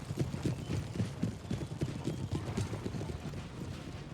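Massed cavalry hooves clatter in the Napoleon: Total War 3 battle game, a fast, rolling clip-clop of many horses moving together at moderate loudness over a low battlefield ambience.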